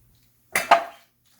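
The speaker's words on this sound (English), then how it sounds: "So we're just going to add it all to our dish here." Stuffing with giblets and livers tipped into a baking dish lands in two quick, close soft thumps with a faint clatter of the dish, then silence.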